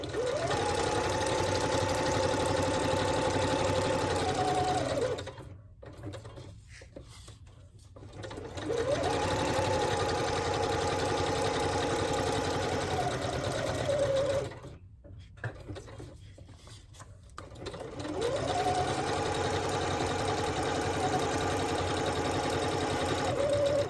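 A sewing machine stitches in long bursts of about five seconds each, a fast droning whir with a rising and falling tone. Short quiet gaps separate the bursts, and no one talks.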